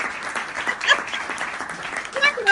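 Scattered clapping and cheers from a live show audience for the host's mother, heard under and between a loud speaking voice, with a few whoops rising near the end.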